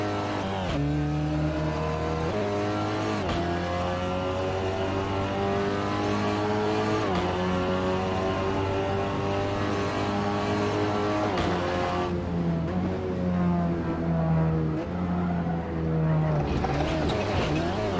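SEAT Leon TCR race car driven in the Assetto Corsa racing game at Brands Hatch, with a steady, loud engine drone whose pitch climbs and drops through gear changes, shifting sharply at a few points while a commentator talks over it.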